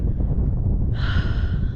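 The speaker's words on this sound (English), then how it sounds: "Just so quiet, except for the wind" Wind blows outside a parked camper at a Route 66 stop, a loud, steady low rush buffeting the microphone that runs unbroken for the whole stretch, with a brief higher whistling tone joining halfway through.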